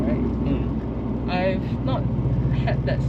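A Subaru Impreza WRX GDA engine drones steadily at low revs during a normal drive around 2000 RPM, heard from inside the car beneath continuous talking.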